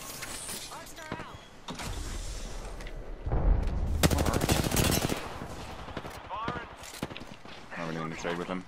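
A charge rifle in Apex Legends fires amid a gunfight, its sharp bursts and crackling shots clustered mid-clip, with a player talking over the action.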